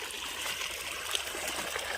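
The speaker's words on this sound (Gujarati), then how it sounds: "પાણી ચાલુ છે ભાઈ" Water trickles and flows steadily along an irrigation channel on a farm, a soft continuous babbling wash at moderate distance with no voices.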